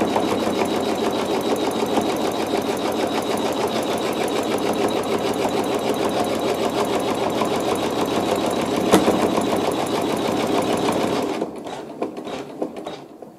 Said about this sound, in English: I have my machine set to sew very slowly, and we'll just let it stitch that seam